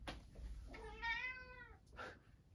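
A cat meows loudly and drawn-out, close by, a long wavering cry followed by a shorter second meow, with faint background noise.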